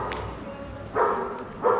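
Dogs in a park bark twice, a second apart, at moderate distance over a low background murmur.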